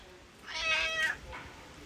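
A single cat meow, short and fairly quiet, heard close with no talking over it at a resort on Laguna de Apoyo, Nicaragua.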